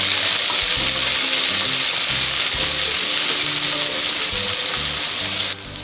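Sliced onions fry in hot oil with whole spices for mushroom biryani, a loud, steady close sizzle with low scraping stirs that cuts off sharply near the end; no one speaks.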